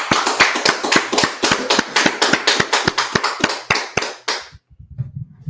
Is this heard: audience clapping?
yes